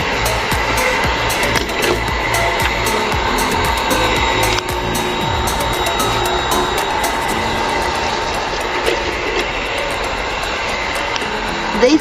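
An LC3000A hot air welding machine blows hot air in a steady, loud, continuous whoosh with a mechanical hum that runs unbroken throughout, with no talking.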